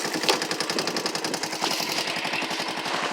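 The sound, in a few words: Honda ATC three-wheeler engine starting and running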